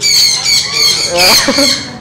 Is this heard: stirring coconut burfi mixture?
no